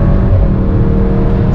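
A VW Fusca with a TSI engine making over 300 hp and a Magnaflow exhaust, pulling hard under acceleration on the road, a loud continuous deep engine drone heard from inside the car with no talking.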